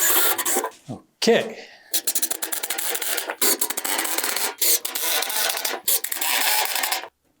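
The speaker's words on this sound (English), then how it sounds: "And we'll switch it out with the countersink." A drill fitted with a countersink bit bores into wooden furring strips along a shed wall, giving several bursts of loud rasping, grinding noise separated by short pauses, with a brief spoken word partway through.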